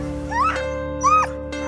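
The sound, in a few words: sled dogs barking and whimpering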